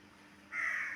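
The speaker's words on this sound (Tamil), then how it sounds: "பாரு காக்காலாம் கூப்பிடுறாங்க பாப்பா" Crows caw in a loud, near burst in the second half, after a quieter stretch of faint background noise.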